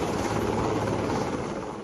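Indian Navy Sea King helicopters fly overhead at the Navy Week Beating Retreat ceremony at the Gateway of India, Mumbai, giving a loud, steady, broadband rotor roar throughout.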